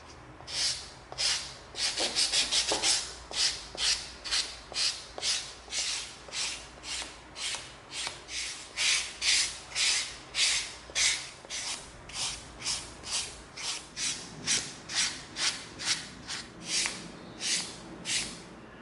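EVA foam on a Star Trek phaser prop is rubbed with 220 grit sandpaper in steady back-and-forth strokes, about twenty-five rhythmic hissing scrapes, close and clear with no talk.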